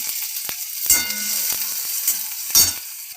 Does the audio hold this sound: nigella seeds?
yes